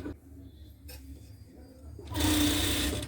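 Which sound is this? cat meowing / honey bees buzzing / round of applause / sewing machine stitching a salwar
sewing machine stitching a salwar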